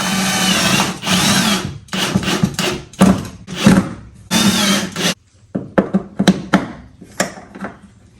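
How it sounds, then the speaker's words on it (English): A power drill drives self-tapping screws to fix an anchor light mount on a jon boat. Its whine comes in about a dozen short, loud bursts of varying length, close up, with brief pauses between them. "I'm gonna try to use some self-tapping screws and see if we can't get this thing attached"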